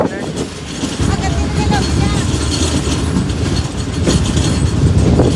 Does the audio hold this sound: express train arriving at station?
yes